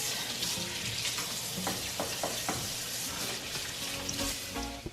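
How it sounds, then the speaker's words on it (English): Hands washed under a running kitchen tap, a continuous close hiss of flowing water with occasional splashes and rubbing sounds, no voices. "I'll make sure I wash my hands thoroughly."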